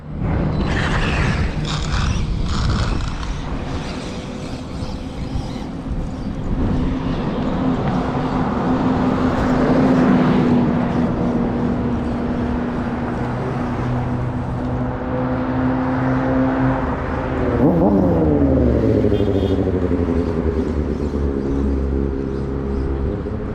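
A Losi ProMoto MX RC motorcycle runs, its small motor whining in pitch sweeps that rise and fall, with a rattling spool-up at the start and a sharp pitch drop near the end.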